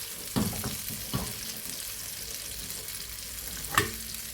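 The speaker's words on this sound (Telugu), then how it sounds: "దీనిపైన ఇలాగ వేడివేడి నూనె వేసుకున్నామండి" Hot oil spooned over king fish frying Kerala style in masala, giving a steady broadband sizzle with a few brief louder splashes near the start and one sharp crackle near the end, with no talk.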